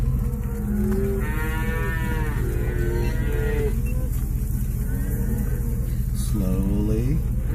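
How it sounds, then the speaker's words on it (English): Cattle mooing during a cattle drive on a Colorado road, several long, loud lowing calls from nearby cows over a steady engine hum from a vehicle. "Come on, cows."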